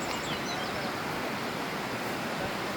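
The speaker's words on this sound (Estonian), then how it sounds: "Vesi vuliseb." Water babbles in a mountain stream in the Tatra mountains near Zakopane, a steady close rush of broadband noise with no pauses and a few faint bird calls.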